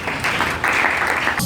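A church congregation applauds in a brief, dense burst of clapping that fills the room.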